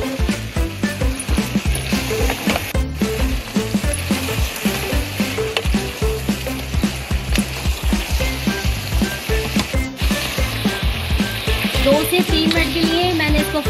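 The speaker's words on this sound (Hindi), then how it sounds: "फ्राई कर लिया है अच्छी तरीके से।" Goat or beef meat for a U.P.-style degi stew sizzles and fries in a large cooking pot. The sizzle is loud and constant, with stirring scrapes throughout.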